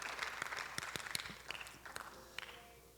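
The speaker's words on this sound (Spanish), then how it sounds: "Den un aplauso fuerte al Señor." A church congregation applauds during a sermon, heard as scattered, fairly faint individual claps rather than a dense ovation, irregular and sparse, thinning out toward the end.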